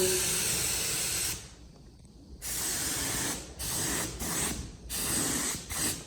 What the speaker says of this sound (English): I've just unclogged my air cap on my gun, now it's spraying right